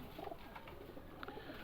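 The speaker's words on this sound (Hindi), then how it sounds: "ये कबूतर है गलवा, ये डब वाला कबूतर है" Galwa pigeons, a pair among a flock of 22 kept in Lahore, cooing softly in low repeated murmurs against a steady background hum.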